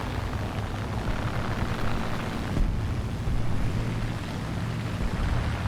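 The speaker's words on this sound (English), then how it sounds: "I hear engines and gunfire." Aircraft engines roar in a WWII flight video game, a dense, continuous rumbling drone with broad noise that holds steady and loud throughout; any gunfire is buried in the engine wash.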